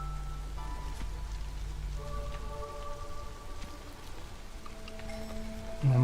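Rain patters steadily during drizzle season in the city-building game Against the Storm, an even hiss of drops under gentle game music tones, no one speaking.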